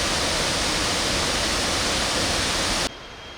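A waterfall at Four Sisters in Laos roars as a dense, constant rush of noise at close range, cutting off sharply near the end.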